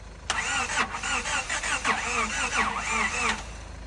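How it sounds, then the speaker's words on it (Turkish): A 1996 Honda Accord engine is cranked over after a head gasket replacement, its starter whirring in a steady rapid rhythm with squealing tones, loud and close, with voices in the background. "Şimdi ilk startı veriyor."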